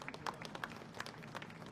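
A crowd applauds China's top leader at the 80th anniversary parade marking Japan's surrender, with steady distant clapping and scattered louder claps under a faint murmur of voices.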